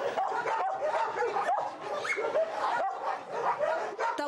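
Several dogs at an animal shelter barking and yipping at once, a continuous overlapping chorus close by, with some whimpering mixed in.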